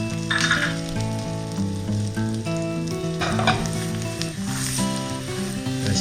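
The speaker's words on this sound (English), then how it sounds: "Let this saute this for about 30 seconds until a little bit brown." Garlic sautés in a hot pan for a Hawaiian garlic shrimp dish, giving a steady sizzle that runs under prominent background music for the whole stretch.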